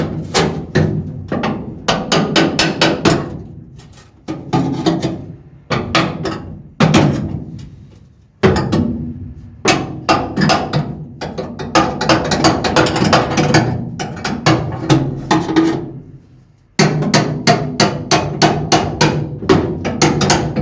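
Rusty 1974 Mk3 Classic Mini battery box being pried off with a chisel and hammer, giving bursts of rapid metallic strikes and scraping clatter, loud and close, broken by short pauses.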